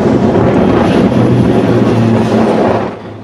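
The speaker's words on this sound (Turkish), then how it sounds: "King Air'lardan 3'ü 24 saat havada kalabilecek." A King Air turboprop surveillance aircraft flies overhead with a loud, steady propeller and engine drone that holds constant before easing slightly at the end.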